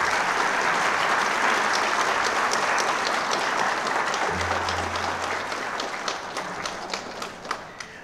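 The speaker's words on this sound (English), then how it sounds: "Please give a big applause to ourselves." Loud, sustained applause fills a large hall as a big audience at the 2018 United Nations Day of Vesak gathering in Bangkok claps together. The applause stays strong, then slowly thins and softens near the end.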